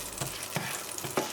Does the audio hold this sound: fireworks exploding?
no